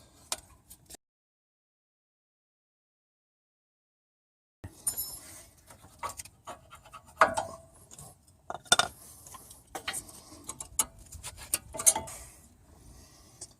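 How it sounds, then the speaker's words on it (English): Springs and pads come off a brake caliper on an Acura MDX. There is a short silence first, then a run of close, irregular metallic clicks, taps and clinks from the parts being pried and handled. "I'm going to remove these springs and then the pads"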